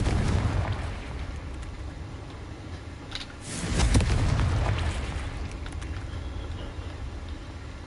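A Confringo blasting curse in the Hogwarts Legacy video game erupts in a deep, loud explosion that swells and rumbles off over a couple of seconds above a low battle ambience.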